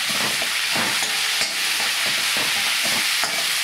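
Tomato and curry leaves frying in a pan for palak khichdi, with a continuous loud sizzle and repeated scraping stirs at a steady rhythm.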